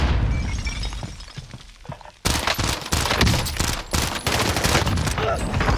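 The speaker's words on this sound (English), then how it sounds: "Why are you shooting me through the back?" Gunfire in Call of Duty Cold War Warzone, with a Kilo rifle, rings out as loud, dense bursts of automatic shots and impacts after a quieter opening, with faint player chatter underneath.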